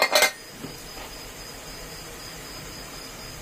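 A lid is lifted off a steamer of chicken momos with a short metallic clatter at the very start, followed by near-silence and a faint, thin steady tone.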